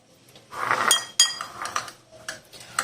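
Spices being mixed with green chilli paste into a chicken marinade in a bowl, heard as scattered clinks and scrapes of a utensil against the dish, a few sharper taps standing out.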